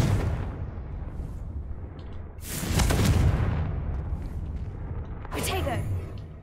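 Confringo fire-spell blasts in Hogwarts Legacy, two or three booming bursts that swell and roll off over a rumbling battle background, with a voice speaking.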